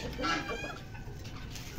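A few soft Aseel hen clucks sound close by over faint background noise, ending with a brief thump of a coop door.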